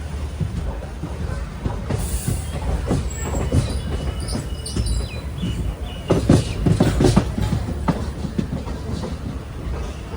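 Passenger train rolling on rails between Tirunelveli and Kanniyakumari in Tamil Nadu, with steady rumble, repeated clickety-clack of wheels over joints, brief wheel squeals, and a louder stretch of clatter midway, with no talking.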